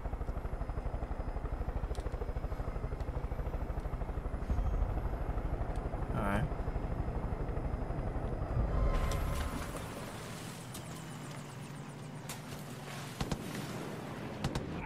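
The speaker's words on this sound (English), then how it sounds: "now is not the perfect time to have a chopper on my ass" Helicopter chasing the player in Far Cry 5, a loud, continuous rotor thump and engine drone through the first part that cuts away to a different, busier game soundscape, with a voice talking over it.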